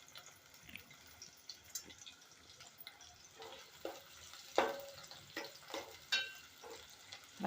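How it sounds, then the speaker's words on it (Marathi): Onion frying in about two and a half spoons of hot oil, a low steady sizzle with intermittent stirring scrapes and occasional sharper crackles, close and moderately quiet, no talking. "चांगला गुलाबी कलर येईपर्यंत आपल्याला हा तळून घ्यायचा."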